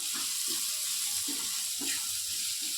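Pearl millet (bajra) sizzles steadily in a hot pan, giving a continuous close frying hiss with faint stirring scrapes underneath.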